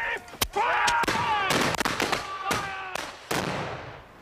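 Musket volleys crack out in a battle reenactment of an attack on a walled position, with several sharp, loud reports that ring and echo, amid shouted commands.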